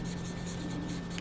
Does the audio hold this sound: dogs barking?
no